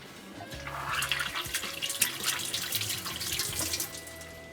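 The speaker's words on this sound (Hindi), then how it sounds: "ये जब तक पक रहा है हाथ धो लेते हैं।" Tap water runs steadily into a sink as hands are washed in a home kitchen while malai kofta cooks, a continuous splashing rush with shifting gurgles, close and fairly loud, with no talking.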